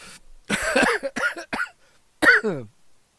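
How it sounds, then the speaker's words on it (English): A man coughs several times in close succession, harsh bursts with throat-clearing, then one final louder cough after a short pause, close and dry. "Sorry about the cough."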